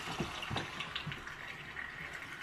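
A bathroom faucet in a mobile home runs, giving a soft, steady splashing flow with a few small gurgles and spatters near the start, fairly quiet with no talking.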